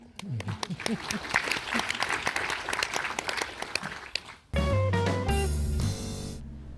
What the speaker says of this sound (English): give her a warm applause again.